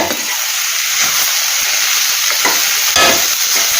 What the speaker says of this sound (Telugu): బాగా మిక్స్ అయ్యేలాగా కలుపుకోవాలి